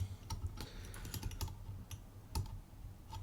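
A lock pick works the pins of a Yale lock, giving a series of faint, small, close clicks scattered across a few quiet seconds.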